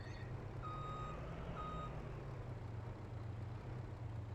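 A truck in a farming simulator video game reverses under a trailer, its reversing beeper sounding two steady tones over a constant low engine drone.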